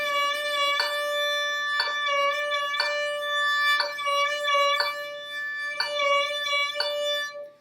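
A single sustained bowed note, likely a string instrument, alternating between pulses of vibrato and steady tone in a regular rhythm of about one beat per second, played alone and clearly with no talking.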